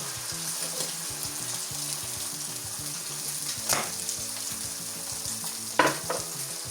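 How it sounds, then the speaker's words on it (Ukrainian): Eggs dropped into a hot pan with bacon fry in a continuous loud sizzle, with a couple of brief sharper spits and pops near the end, and no voices. "І будемо вкидати наші яйка."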